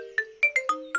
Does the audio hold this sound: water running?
no